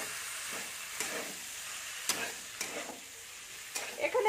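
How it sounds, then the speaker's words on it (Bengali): Pre-fried ingredients are stirred into a spice paste in a pan for a Malabar spinach seed dish, with a soft, steady sizzle broken by repeated scraping strokes of a spatula. "দিয়ে মশলাটার সাথে ভালো করে আমি ভেজে নেবো"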